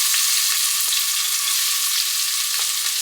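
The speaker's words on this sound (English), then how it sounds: "Onions are sauteed." Small onions sauté in olive oil inside a pressure cooker, producing a loud, even, continuous sizzle close up. No voices or other sounds break in during the short stretch.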